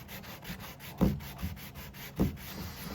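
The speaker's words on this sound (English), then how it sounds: "While I was sanding the drawer fronts" Steady soft rubbing of sandpaper on oak drawer fronts from a buffet, a continuous scratchy hiss with two slightly stronger strokes, close by and with no talking.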